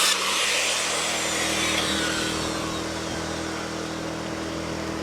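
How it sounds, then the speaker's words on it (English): A 3/4 inch wood board has its end cut off during a log cabin wall build at a deer hunting camp, giving a loud, steady power saw whine that runs for several seconds and eases slightly toward the end. "I'm going to take this piece of 3/4 inch, cut the end off"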